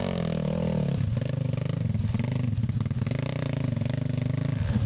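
A Yamaha Mio scooter and chain-driven underbone motorcycles, converted for a mountain trail race, roar and rev close by with a rough, pulsing engine drone and clattering, loud and continuous.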